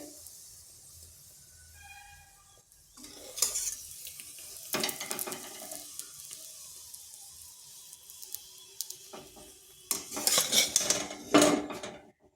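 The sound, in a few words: paratha frying in oil in a pan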